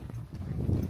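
A horse carrying a rider climbs a slope on Mount Bromo, a Java volcano, with a brief run of soft, close hoof clip-clops over low rumbling.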